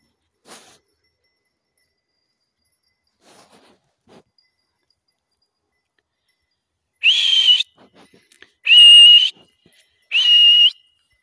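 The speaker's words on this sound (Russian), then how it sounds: "пришлось несколько раз свистеть" Three loud, shrill whistles in a row, each held for about a second, calling distant goats, sound after a long quiet stretch with only faint rustles.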